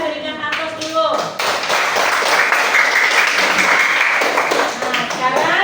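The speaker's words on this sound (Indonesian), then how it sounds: "Kita berikan aplaus dulu." Classroom audience applauds after a group presentation, steady clapping from many hands filling most of the stretch, with a speaker's voice over the start and briefly again near the end.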